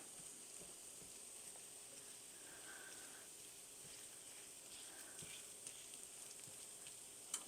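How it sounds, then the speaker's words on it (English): A cabbage and spinach pie fries in a pan, giving a faint, steady sizzling hiss with occasional tiny pops and crackles, alone and without talk. "now I start to hear the sizzle"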